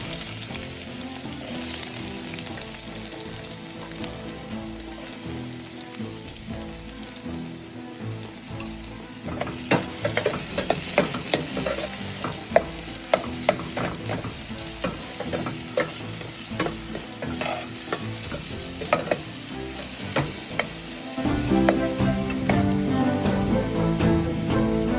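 Mustard seeds frying in hot oil for a broad bean curry: a continuous sizzle that breaks into rapid, sharp crackles and pops as the seeds burst, close and fairly loud.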